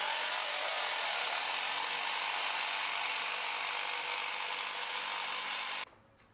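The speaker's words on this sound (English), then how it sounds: "I usually prefer to use a jigsaw whenever I can, because it's quicker and easier" Jigsaw cutting through a metal computer case panel, a loud steady buzzing rasp running continuously for several seconds before stopping abruptly near the end, with no talking.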